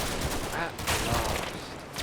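A German artillery barrage in the Combat Mission war game set in Operation Epsom, a dense rumbling fusillade of explosions and gunfire crackling continuously, with voices faintly mixed in.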